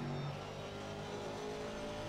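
Bentley Continental GT3 race car from 2018 in Assetto Corsa Competizione at Kyalami, its engine droning steadily as it accelerates, a continuous mid-pitched hum with a faint rising tone and no talk.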